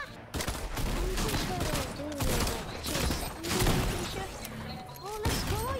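Gunfire in the video game Fortnite during a random duos match: bursts of rapid shots and echoing cracks over several seconds, with game effects and a voice talking over them.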